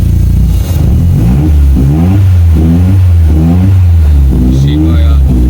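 A Ford Escort Cosworth engine revs repeatedly, the throttle rising and falling in steady waves, loud and close, with a voice talking faintly over it.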